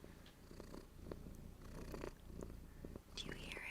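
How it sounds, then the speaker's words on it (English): A cat purrs close to the microphone, a soft continuous rumbling with rhythmic breathing pulses, quiet and steady, with light whispering voices over it. "turning off the music so you can hear her purr."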